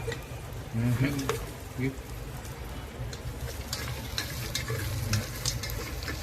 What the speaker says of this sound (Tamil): வெங்காயம் போட்டு நல்லா வதக்கிறோம்